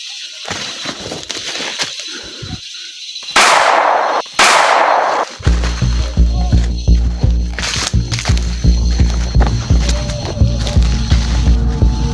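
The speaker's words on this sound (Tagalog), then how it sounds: "Wala, wala, wala, paputok na." Several loud, sharp firecracker bangs going off one after another, followed by a rapid crackling string of small explosions that continues to the end.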